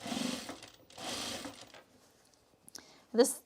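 Sewing machine stitching around the perimeter of a fabric bowl cozy, with two sustained runs of motor whir separated by short pauses, then a few quieter clicks and a brief louder burst at the end.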